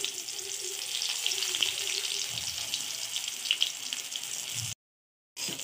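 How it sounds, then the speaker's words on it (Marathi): Bottle gourd vadi pieces fry in a pan with mustard seeds and chopped chili, giving a steady close sizzle with faint stirring and scraping, cut off by a brief silence near the end before resuming. "आता ह्या वड्या त्यात छानपैकी फ्राय करून घेऊया।"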